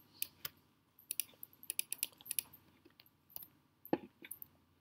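Light, irregular keystrokes tap on a computer keyboard in short bursts, close and quiet, with brief pauses between clusters.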